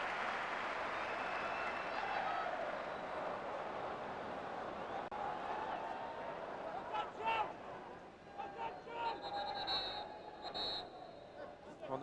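A football crowd at Everton versus Norwich City in an FA Cup fifth-round tie applauds in a broad, distant wash of clapping that gradually thins out, with a commentator's voice faintly present.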